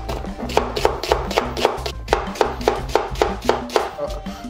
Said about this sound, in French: on va pouvoir émincer les poireaux